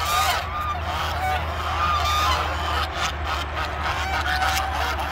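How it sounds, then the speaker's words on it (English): Geese in a large bird pasture honk repeatedly in a loud, overlapping chorus, with scattered calls rising above a steady low outdoor rumble. "You can hear the geese being pretty loud"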